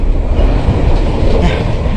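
Inside a moving passenger train on a trip from Tegal, a loud steady rumble fills the carriage with low rolling noise and faint rattles, continuous throughout.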